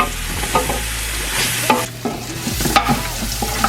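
Onions softening in a pan, frying with a steady sizzle while being stirred, scraping and clinking of a utensil against the pan at intervals over the close, fairly loud cooking.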